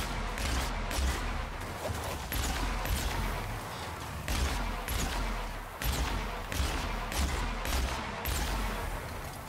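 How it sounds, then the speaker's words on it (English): Dense, continuous combat in the video game The Outer Worlds: rolling explosions and bursts of gunfire overlap steadily, loud and chaotic with no clear pauses. "Gotta remember there's explosions all around"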